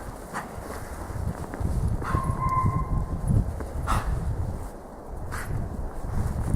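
A dog barks in short scattered yips and whimpers over a low rumbling background, with shuffling footsteps nearby.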